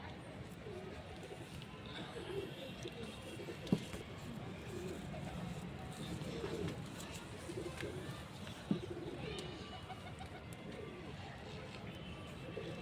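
Punjabi pigeons coo softly and intermittently in a continuous, fairly steady low murmur, with faint background noise and a couple of brief clicks.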